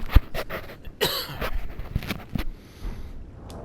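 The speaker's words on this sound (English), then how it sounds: "I'm gonna cough." A man coughs a few times in short, close bursts, with breathy exhalations in a quiet room.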